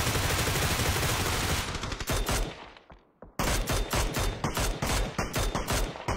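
Rapid automatic gunfire in a solo-versus-squad shooter video game: loud, close bursts of shots that briefly fade out, then return as a string of sharp, evenly spaced reports.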